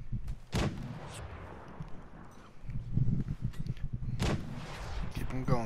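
Gunshots in a video game shootout, several sharp cracks spaced a few seconds apart with a rumbling tail, mixed with footsteps and players talking.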